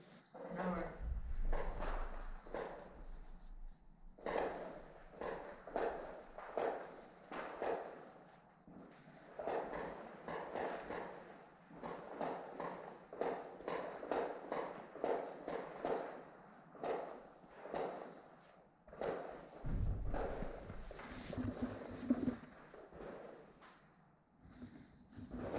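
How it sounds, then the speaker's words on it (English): Gunfire on a Donbas frontline, a series of distant shots and thuds repeating irregularly throughout, with some muffled talk and movement close by. "Those shots, they sound different than the first ones."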